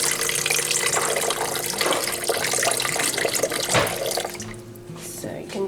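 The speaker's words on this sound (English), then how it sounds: "He's putting 1 cup of warm water." A cup of warm water is poured into a bowl while making country white bread. A continuous loud splashing stream runs the whole time and eases off slightly near the end.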